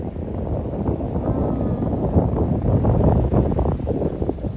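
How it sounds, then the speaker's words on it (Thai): Strong wind gusts roar steadily during heavy snowfall on a town street in Skövde, Sweden, a loud, continuous blustery rush buffeting the microphone throughout. "ลมลมลมลมพร้อมจ้าพี่น้องจ้าแล้วก็เงินหนาวโอ้ยพายุ"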